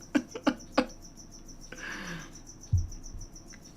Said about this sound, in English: I need Ripley to kill that cricket